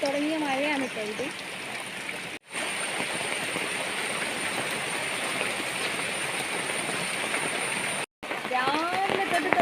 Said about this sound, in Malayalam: ഭയങ്കര മഴ. ഇതാ മൂന്നാമത്തെ ട്രിപ്പാണ് വന്നുകൊണ്ടിരിക്കുന്നത്.